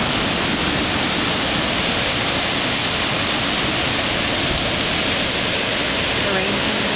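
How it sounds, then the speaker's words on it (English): Heavy rain pours down during Typhoon Man-yi, a dense, steady broadband hiss that fills the whole clip without letting up. "The rain. I think it's on my face."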